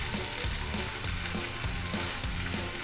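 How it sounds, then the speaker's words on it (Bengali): Masala with yogurt sautés in a pan for shahi chicken korma, giving a steady, close hiss of frying that runs continuously and quietly without interruption or voices. "সুন্দরভাবে এটাকে কষিয়ে নিতে হবে"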